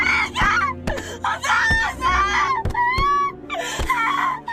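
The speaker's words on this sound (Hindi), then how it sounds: "थोड़ी देर बाद मायू कब्र के अंदर से चिल्लाने लगती है और दीवारें पीटने लगती है" In a horror film, a girl trapped inside a grave screams and wails in long anguished cries broken by sharp thuds, loud and close throughout.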